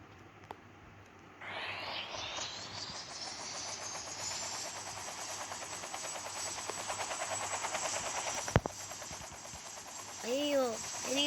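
Helicopter in a prison-escape video game: a steady whirring rotor and engine drone swells in and holds loud for several seconds, with faint talk in the background.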